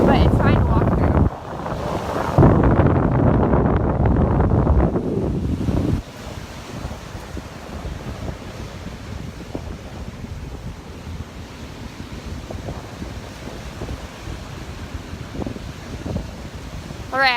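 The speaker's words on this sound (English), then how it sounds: "I'm going to turn around and walk the other way because the wind is just so bad this direction" Strong wind buffets the microphone on a beach in Destin, Florida at sunrise, a loud roaring gust at first that eases into steady rushing wind with surf washing in the background.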